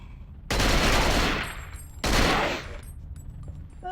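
Two loud bursts of AK rifle gunfire from the video game Cold Fear, each a dense rattling volley about a second long, separated by a short pause and fading into quiet tails.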